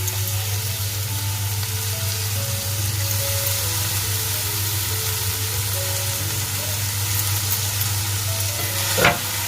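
Vegetables sizzling in a pan with turmeric, a steady frying hiss with soft stirring and a low hum underneath, ending in a short scrape.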